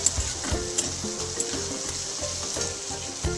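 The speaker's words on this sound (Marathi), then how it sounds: "लालसर कांदा, हिरवी मिरची अशी भाजून घ्यायची." Onion and green chillies frying in a pan for zunka, a steady sizzle with repeated rhythmic scraping of a spatula stirring close by.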